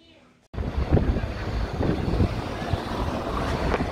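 Strong wind buffeting the microphone in a continuous loud rumble and roar, starting abruptly after a brief quiet moment.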